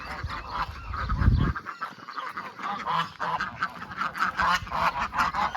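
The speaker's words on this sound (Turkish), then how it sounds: "Ördekler de ben geliyorum diye seviniyorlar." Ducks and geese on a farm at morning feeding time, a busy chorus of honking and quacking close by, loud and continuous with overlapping calls and rustling.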